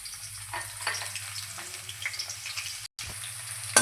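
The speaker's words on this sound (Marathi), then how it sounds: "तेल गरम झालं की लगेच ठेचून घेतलेला लसूण टाकून घ्यायचा आहे" Crushed garlic frying in hot oil, a close, even sizzle with light bubbling crackles, briefly cut off near the end before resuming.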